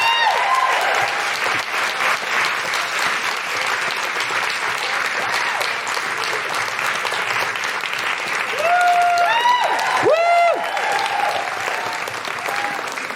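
Lively crowd applause for a musician at a live stage show, continuous and loud for over ten seconds, with cheers and whoops rising above the clapping near the middle.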